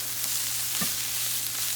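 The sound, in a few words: potatoes with garlic and shallot stirred in a frying pan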